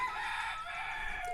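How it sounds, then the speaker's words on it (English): A rooster crows nearby outdoors, one sustained, loud crow that fills the moment with no talking over it. "Sorry about the rooster."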